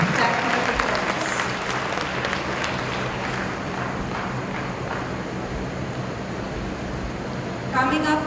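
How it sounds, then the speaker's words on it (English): An audience at a girls' school Founders Day event applauds after a stage performance, a thick sustained round of clapping that fills the hall and carries on throughout, with a brief tonal sound rising near the end. "Let's give them a big round of applause."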